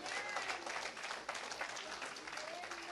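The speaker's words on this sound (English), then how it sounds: "you better give a hand clap to God" Church congregation clapping their hands for God, a faint, distant wash of crowd applause with a murmur of voices mixed in, steady and diffuse across the whole stretch.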